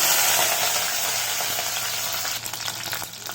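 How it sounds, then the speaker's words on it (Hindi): Sliced round onions dropped into hot oil in a wok (kadai) hiss with a loud, dense sizzle that holds steady, then crackles more unevenly toward the end, with no voices present. "तेल गरम हो गया है, अब हम इसमें जो गोल कटे हुए प्याज थे उसको डालेंगे"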